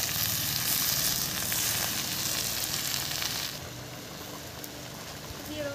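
Leafy greens hit a pan of already-fried onion and green chili and sizzle loudly and steadily up close, the hiss easing to a softer simmer for the last couple of seconds.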